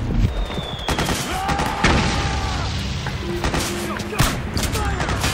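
Gunfire and booms in the Metal Gear Solid 4 video game, a steady battle din of shots and thuds with shouted commands from soldiers mixed in throughout.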